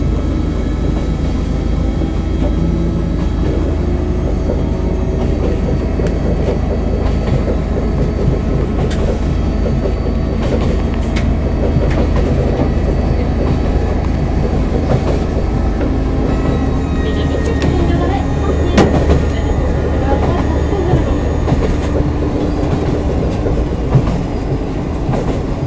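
The Tire-Bouchon tourist train runs along the Quiberon railway line, giving a continuous loud rumble with rail clatter and occasional sharp clicks from the track, heard close up and with no talking.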